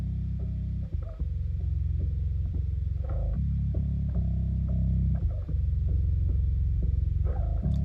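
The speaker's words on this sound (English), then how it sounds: "Here's my sub bass." A deep, heavy sub bass line an octave lower, from a mix of a song, throbs alone, sustained low notes changing pitch every second or so with faint clicks at each change.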